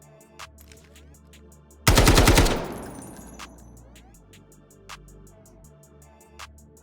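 A 7.62 AP rifle in Delta Force fires at a target 40 meters out: one tight, loud burst of rapid shots followed by a fading echo, then quieter isolated clicks over a sparse musical background.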